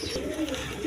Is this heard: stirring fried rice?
no